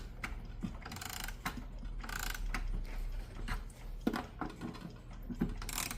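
Close, steady ratchet clicking from the mainspring of a Sessions tambour clock being wound by hand, irregular bursts of clicks and mechanical ticks over about six seconds with no talking.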